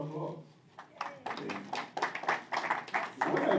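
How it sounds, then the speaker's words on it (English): Scattered clapping from an audience at an Africa-themed fair in New York City, irregular individual claps building after a brief spoken line, mixed with talk and growing denser toward the end. "You deserve a round of applause"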